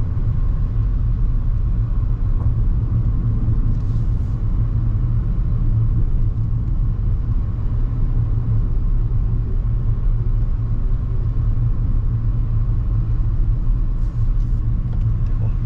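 A car cruises along a highway in third gear, a loud, steady road rumble and engine drone from inside the cabin that holds constant with no break or talk.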